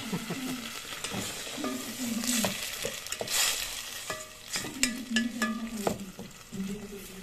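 Sardines sizzling in a hot pot while a utensil scrapes and stirs them, the crackle rising and falling with each stir, close and steady.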